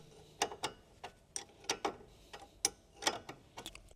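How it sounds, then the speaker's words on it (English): A 17mm wrench works bolts loose from a Honda CR-V rear upper control arm, giving quick, faint ratcheting clicks and small metallic ticks in uneven bursts against a quiet background. "Continue using the 17mm wrench to completely remove the bolts."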